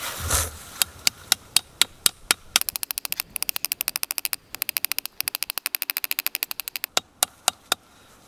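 A hammer taps a metal spout into a maple tree, with sharp, close knocks that start slow and evenly spaced, speed into a rapid run of quick strikes, then slow again at the end.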